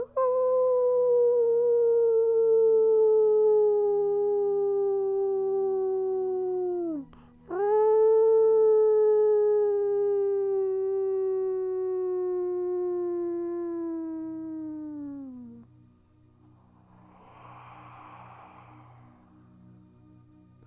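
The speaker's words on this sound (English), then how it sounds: "You reflect on what this howl means to you." A wolf gives two long, loud howls nearby: the first is sustained and slides slowly downward, then breaks off, and the second rises back up and glides down again before fading. Faint background noise follows.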